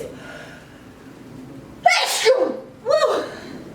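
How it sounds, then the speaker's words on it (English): Two violent sneezes in a home kitchen during cookie baking, the first a sharp explosive burst and the second a slightly softer one about a second later, close and loud after quiet background noise. "Lately my sneezes have been like very violent"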